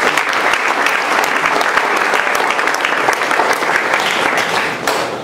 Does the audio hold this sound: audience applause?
yes